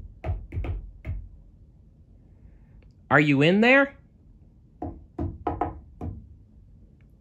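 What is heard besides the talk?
knocking on a door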